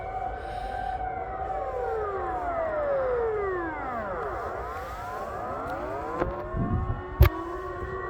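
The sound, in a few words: civil defense test siren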